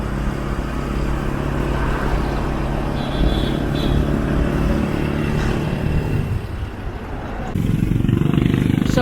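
Engines of a roadside line of cars queuing for gasoline after a storm in Cebu City, a continuous low idling rumble with passing vehicles, growing louder and closer near the end.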